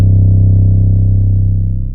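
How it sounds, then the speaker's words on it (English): A single sustained 808 bass note from Ocean's Drill kit, deep and booming, holding steady and loud for two seconds before fading slightly, alone with no other sounds. "This is Ocean's Drill 808."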